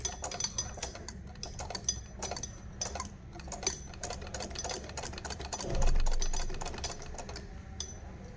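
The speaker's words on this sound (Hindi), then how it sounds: "ये देखिए मैं कोने से ही सिलाई करती हुई आ रही हूँ" Household sewing machine stitching fabric along a corner edge during a beginner tailoring lesson, a fast steady run of light mechanical ticks and clatter with a low motor hum, brief pauses and one louder swell near the end.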